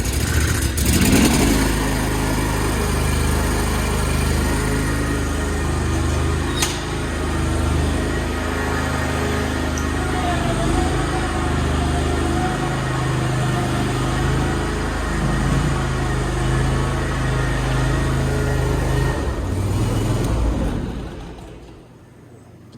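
A new Kawasaki engine on a riding lawn mower runs steadily at close range, a continuous droning hum with a slight rise early on, holding for about twenty seconds before shutting down and fading out.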